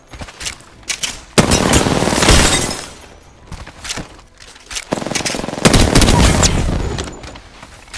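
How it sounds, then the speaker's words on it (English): Machine gun fire rattles in a shooter video game, two long loud sustained bursts separated by quieter gaps with scattered shots, close and harsh. "They're shooting at me."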